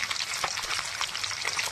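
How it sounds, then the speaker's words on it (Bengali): Fish frying in a pan gives a close, busy sizzle with crackling spits and pops, steady and fairly loud from start to end, with no voices over it. "আলা খোলা মাছ ভাজতে দিয়ে দিয়েছি, এখনো অতটা আছে, আস্তে আস্তে ধৈর্য ধরে ভাজছি"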